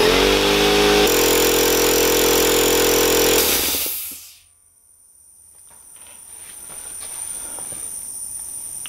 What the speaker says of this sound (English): that little tss at the end was this unloading valve that takes the air off of this tube